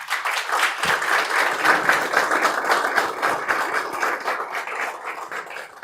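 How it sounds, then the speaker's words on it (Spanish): A crowd at a book presentation in Guatemala applauds steadily for several seconds, a dense, fairly close wash of many hands clapping with no break. "quiero públicamente, por favor, pedir un aplauso para Tilly Bickford"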